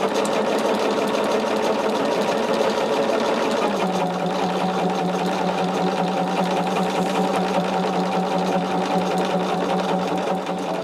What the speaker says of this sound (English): And what we will do is just keep sewing our rows like this.